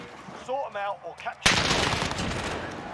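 Rapid bursts of gunfire in a Call of Duty Warzone gunfight, loud and dense from the midpoint onward after a stretch of talk, with shots running continuously to the end.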